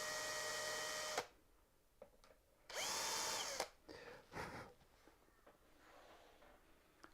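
Power drill starting pilot holes for brass screws in a wooden finger-joint box, two loud whirring bursts of about a second each, separated by quiet pauses with small handling knocks and clicks afterward.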